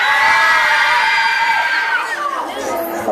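A crowd of students cheers, whoops and screams loudly at a school performance event, a dense wall of young voices close and sustained before tapering off slightly at the end.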